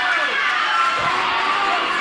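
A high school girls' basketball crowd in a gym cheers and shouts steadily throughout, a dense continuous roar of voices with a commentator faintly talking underneath.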